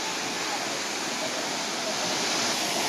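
Gandahathi waterfall in Gajapathi district pours with a constant, loud broadband rush of water that fills the scene evenly from start to end.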